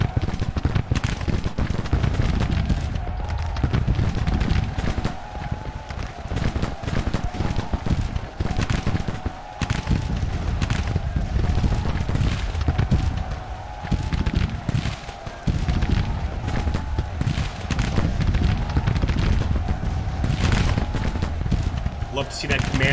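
Civil War musket volleys in the strategy game Grand Tactician at the Battle of Bull Run, the Black Hats firing on a division; sharp cracks and rolling fusillades repeat constantly beneath someone talking throughout.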